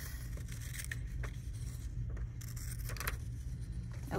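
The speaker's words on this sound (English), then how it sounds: "Keep the scissors open wide and close." Scissors cutting a sheet of white paper in half, a few faint crisp snips and slides over steady low background hum, no talk.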